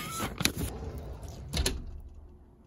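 A closet door is pushed shut indoors with two quick, soft knocks about a second apart, then quiet room tone.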